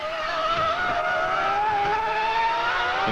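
Onboard with Rubens Barrichello in a Formula 1 car at the 2000 German Grand Prix, the engine holds a loud, steady high-pitched scream that climbs slowly in pitch, continuous and close throughout, with a harsh skidding edge.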